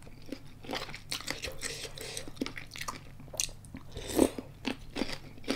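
Crunchy bites and chewing of a crispy, spicy salad with Argentine red shrimp, close and crisp, with one louder crunch near the end.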